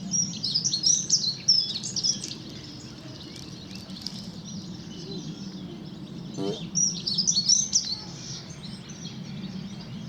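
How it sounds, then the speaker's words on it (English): A dunnock (hedge sparrow) sings among other small songbirds in National Trust countryside on a walk from Witley to Haslemere. Bright chirping phrases come in bursts, loudest at the start and near the end, over a low steady background rumble. "here's a hedge sparrow dunnock in there as well."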